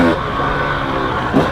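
KTM 300 XC two-stroke dirt bike engine revving steadily and loudly up close, a continuous buzzing drone with a brief surge near the end.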